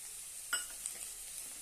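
Chopped tomato sautéing with roasted onions for a papad chutney: a soft, steady sizzle with a few brief stirring scrapes, faint and close, with no one talking.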